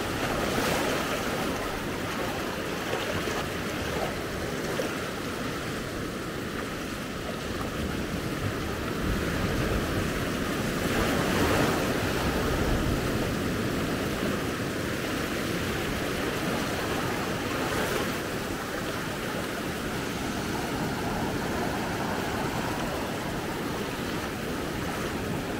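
Ocean waves break and wash up on the beach at Maspalomas, Gran Canaria, a steady continuous surf roar with wind buffeting the microphone, no voices.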